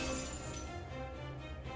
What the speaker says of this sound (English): it shatters instantly in the face of Merodach,